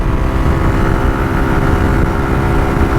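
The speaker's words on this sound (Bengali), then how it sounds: "বাইকের থ্রোটল ঘুরানোর সাথে সাথে বাইক একশো সতেরো আঠারো উঠে যাচ্ছে" A Suzuki Gixxer motorcycle runs hard at full throttle during a speed test, its engine giving a steady, loud, continuous drone with heavy wind rumble and no break.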